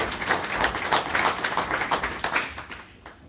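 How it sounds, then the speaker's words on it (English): A small audience at a cybersecurity panel session claps for a panelist, a close, rhythmic run of individual hand claps that tapers off at the end. "A warm applause for Eric"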